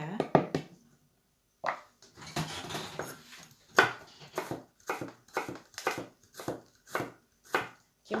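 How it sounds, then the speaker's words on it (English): Knife chopping vegetables for vegan kimchi on a cutting board, a quick burst of cuts, a pause, then a scraping shuffle and a steady run of evenly spaced, close thuds. "And as I chop them like this,"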